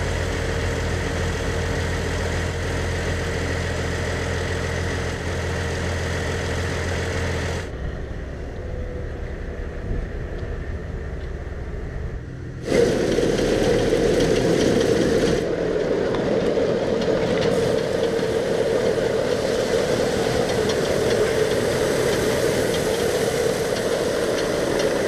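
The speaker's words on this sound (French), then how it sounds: "avec ce système de tapis hydraulique, donc entraîné par un moteur hydraulique ici" A hydraulic motor drives a conveyor belt to load a fertilizer spreader on a farm, a steady mechanical drone that stops briefly midway, then resumes louder with a rougher, grinding tone, continuous and fairly close.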